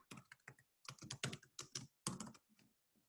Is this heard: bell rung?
no